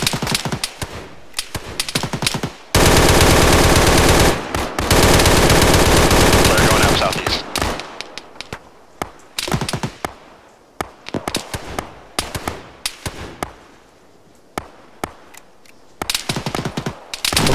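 Sustained automatic gunfire from the military shooter game Arma 3: a long continuous burst followed by many sharp, rapid shot clusters and single cracks, loud and close, with a brief radio-style voice mixed in.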